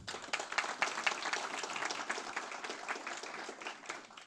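A crowd applauds steadily for several seconds, dense clapping that swells early and slowly fades near the end.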